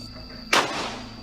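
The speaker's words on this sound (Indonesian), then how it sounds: "Di tengah perjalanan disimulasikan kami mengalami gangguan kontak tembak." A single sharp burst of simulated gunfire during patrol training in a disaster and conflict-zone safety exercise, loud and close, ringing out once over a steady background hum.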